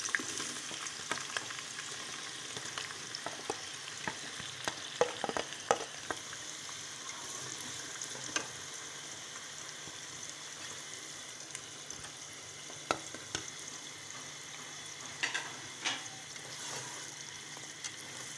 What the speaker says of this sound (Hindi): और जब ऑयल गर्म होगा तो मैं इसमें सारा प्याज डाल के पहले इसको मैं अच्छे तरीके से फ्राई करूँगी।